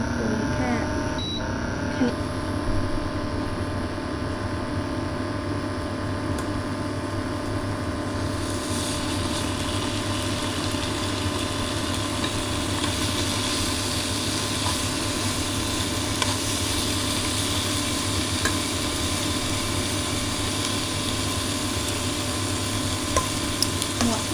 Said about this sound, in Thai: เราจะ ย่างหมูกัน โดยจะใช้ไฟกลางนะคะทุกคน เราจะไม่ใส่น้ำมันนะ เราจะเอาหมูลงไปเลย